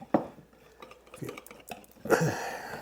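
Banana muffin batter being whisked in a bowl, with a few clinking taps of the whisk against the bowl sides and soft stirring scrapes in between, close and moderately loud.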